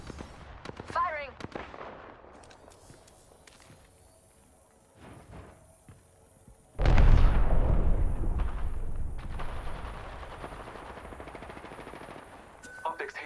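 Apex Legends gunfire: scattered shots and game effects early on, then a loud, sustained burst of close automatic fire that rolls on for several seconds as voices speak lightly in the background.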